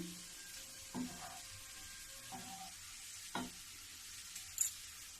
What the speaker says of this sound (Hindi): देखो घी गरम हो गई है, साबूदाना खूब अच्छे से खिल के ऊपर आ गई है।